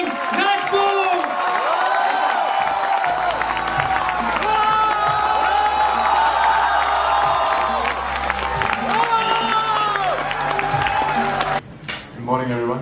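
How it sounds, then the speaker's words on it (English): A large crowd at a youth awards event welcomes actor Sushant Singh Rajput with loud sustained cheering, whoops and clapping, while music plays under it, before the noise drops off abruptly near the end. "give a huge round of applause to welcome Sushant Singh Rajput"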